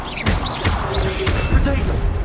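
Incendio fire spell cast in the Hogwarts Legacy video game, a burst of whooshing magical fire with bright sweeping tones and thuds, repeating over steady game combat noise, loud and close.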